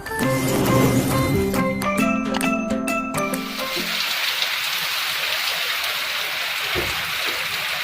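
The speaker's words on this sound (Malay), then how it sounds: "Hujan cik, hujan petang ni." Steady rain hisses on a surface, preceded by a few seconds of music and clattering sounds before the downpour dominates alone.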